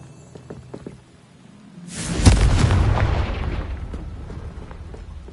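The Confringo fire spell in Hogwarts Legacy goes off as a sudden heavy boom with a fiery burst, followed by a long rumbling decay that fades over a few seconds, coming after a quiet stretch.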